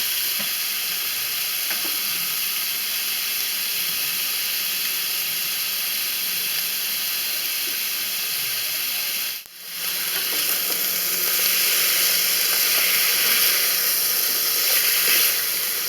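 Chicken pieces fry in a pan with a constant close hissing sizzle that briefly dips once, then picks up again slightly louder, with no talking.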